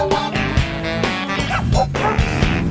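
Barking from the 1990s Two Stupid Dogs cartoon intro: several loud, quick woofs and yips in a burst, laid over the theme music.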